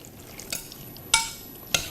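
Japanese pancake mixture stirred with a utensil in a bowl: a few sharp scraping strokes spaced apart over a soft background hiss, close by, with no talking.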